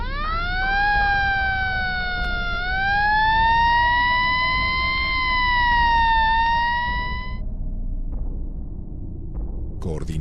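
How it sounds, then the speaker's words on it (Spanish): An ambulance siren wails, rising and falling steadily for several seconds over a low rumble of traffic, then cuts off, leaving road noise. "Momentos después, es trasladado a una ambulancia."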